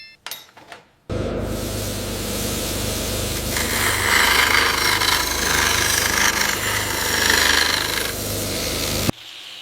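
An abrasive grinder works the rough edges and casting marks off a cast metal church statue, a loud steady grinding whine that runs continuously for about eight seconds, close up with no voices.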